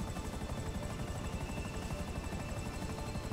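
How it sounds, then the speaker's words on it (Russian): Helicopters in Grand Theft Auto V give a steady, dense rotor roar with fast rhythmic chopping that fills the whole clip at an even, fairly loud level. "Вертушки."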